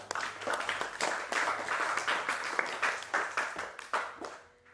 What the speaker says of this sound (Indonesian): Beri aplaus untuk Ahmad.